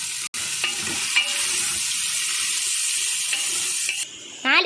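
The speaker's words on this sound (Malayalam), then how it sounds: "നാല് സവാള വെട്ടി വെച്ചിരിക്കുന്നത് ചേർത്ത് കൊടുക്കാം. ഇത് നമുക്ക് മിക്സ് ചെയ്ത് കൊടുക്കാം." Sliced onions frying in hot oil in a pan for prawn biryani, a steady close sizzle with occasional scraping strokes of a spoon stirring through them, no talking.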